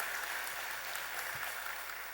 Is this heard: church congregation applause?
yes